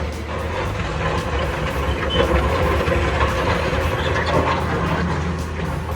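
A Komatsu WA150-5 wheel loader runs with its diesel engine and hydraulic pump working, a loud, steady low rumble with whining mechanical overtones, heard close up throughout.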